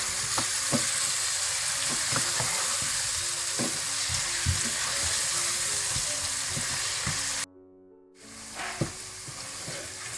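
Mutton for dhaba-style palak gosht frying in a pan with roasted crushed cumin and coriander powder, a continuous close sizzle with repeated scraping stir strokes and a brief dropout near the end.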